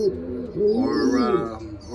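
Pigeons coo in a loft, including birds with overmarked wings, making a low throaty warbling that rolls on steadily and close by for the whole stretch.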